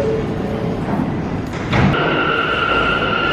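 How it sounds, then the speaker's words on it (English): Steady rumble and hiss inside a New York City subway J train car, with a thud and a brief tonal whine as it moves, loud and continuous. "taking the J train all the way over to round two"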